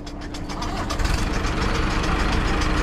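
A tractor engine idles and runs steadily nearby during corn silage work, a loud continuous low rumble with a faint mechanical clatter throughout.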